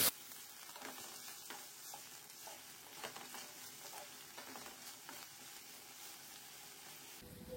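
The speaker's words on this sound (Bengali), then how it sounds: "দিয়ে দিচ্ছি একটি মিডিয়াম সাইজের পেঁয়াজ কুচি। লো ফ্লেমে ফ্রাই করে নিচ্ছি।" Chopped medium-size onion fries in hot oil over a low flame, giving a soft, continuous sizzle with occasional light stirring scrapes, close but quiet.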